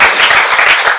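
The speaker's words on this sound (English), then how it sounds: "can you please give a huge round of applause to Dr. Mineke" An audience claps continuously after a talk, a loud, dense burst of applause filling the short moment.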